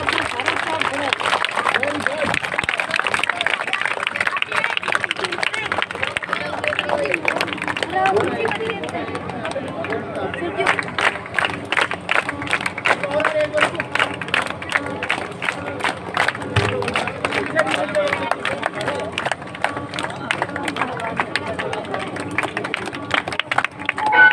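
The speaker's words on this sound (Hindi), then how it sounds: "उसे तालियां खूब जोर से गड़गड़ाएं।" Audience at an outdoor public foundation-stone and inauguration event in a village, clapping in a dense, sustained patter with crowd murmur and a voice over a loudspeaker, moderately distant.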